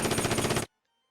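A short, loud burst of rapid machine-gun fire from the WWII strategy game Conflict of Heroes, shooting at enemy mortars, cutting off abruptly into silence.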